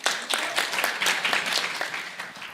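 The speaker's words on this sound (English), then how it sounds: "Let's give her a round of applause, please." Audience at a meeting of women parliamentarians clapping for a departing speaker, a fairly loud run of close, uneven hand claps that swells and thins in waves before tapering off, with no talk over it.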